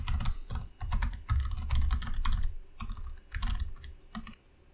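Rapid typing on a computer keyboard, close and clear, in quick clattering bursts broken by short pauses, with no voices.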